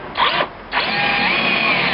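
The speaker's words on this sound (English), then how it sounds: "Let's drill our holes." A power drill bores holes in metal for a homemade dinghy launching trolley: a short burst of whining drilling, a brief pause, then a longer sustained grind at close range.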